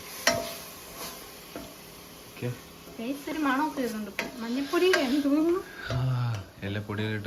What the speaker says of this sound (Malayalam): ഇഞ്ചിയും വെളുത്തുള്ളിയും പേസ്റ്റ് ആക്കിയത് അത് ഇട്ട് കൊടുത്ത് നന്നായിട്ടൊന്ന് ഇളക്കാം